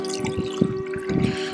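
Water trickles and drips into a car's windshield washer fluid reservoir, a short burst of close, uneven splashing with a steady hum running underneath.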